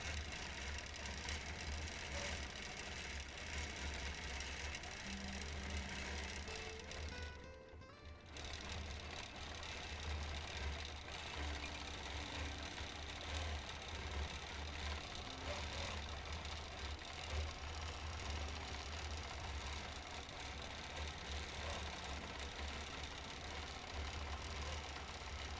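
A sewing machine runs steadily through free motion quilting on a custom quilt, stitching in the ditch, a continuous mid-pitched mechanical hum with a brief pause near the eight-second mark.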